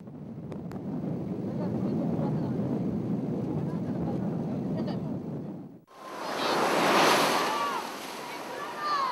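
Surf rolling in at a beach where a river meets the sea, a broad wash of breaking waves with a sharp dip midway before a louder surge, mixed with wind buffeting the microphone.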